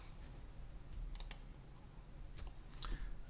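A few faint, sharp clicks of computer keyboard keys, isolated taps spaced a second or so apart against quiet room hiss.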